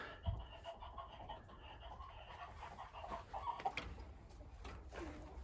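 A chicken, hen or rooster with a large comb, clucking in scattered calls at a free-range coop, fairly faint over low background rumble.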